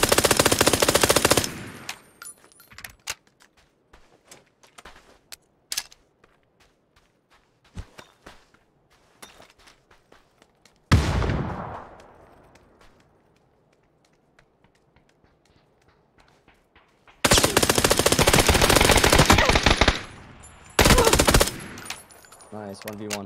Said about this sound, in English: they're getting shot in the back now